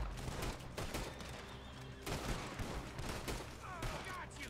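Gunfire from a shootout in Red Dead Redemption 2, dense overlapping shots in rapid bursts filling the mix, fairly loud and continuous, with a voice talking underneath.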